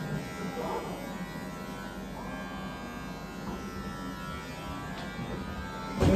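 An electric razor cuts hair short, producing a close, steady buzzing drone with small changes in pitch as it moves across the head, while people speak quietly beneath it.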